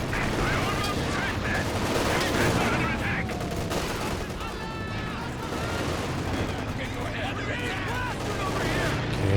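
Anti-tank gun shots bounce off a Panther tank amid a Company of Heroes 2 battle, with rapid overlapping gunfire bursts and explosions while a commentator talks over the action.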